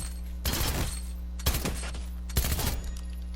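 Machine pistol fire in Fortnite, three short full bursts about a second apart over a steady low game hum, loud and close with no talking.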